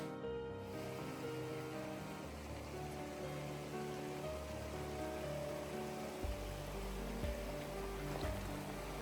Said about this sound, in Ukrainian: Перший водоспад за сьогодні Нижній Гук.